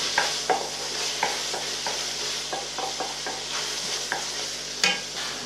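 Onions browning in a pan for pilau rice give a steady, close sizzle, broken by a series of sharp clicks and scrapes from stirring at irregular intervals.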